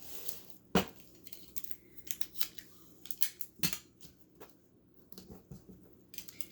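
Close, quiet paper handling while taping down a sheet for a DIY candle project: sharp snips, crinkles and tape tearing come in irregular bursts.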